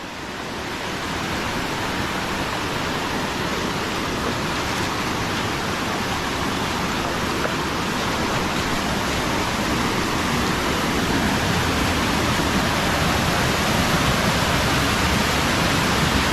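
A waterfall on a stream at Malayattoor, where a steady loud rush of falling water roars without a break, close and alone, with no voices.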